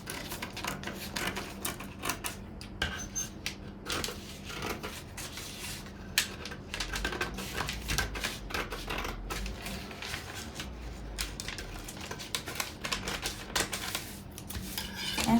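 Scissors cut a fabric dress piece in steady, close, crisp snips and rustling strokes that run unbroken for the whole stretch, with no talking.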